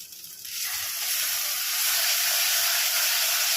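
Spice paste for a Malabar spinach and shrimp dish frying in hot oil, a loud steady sizzle and hiss that swells quickly after the first half-second and then holds close and continuous.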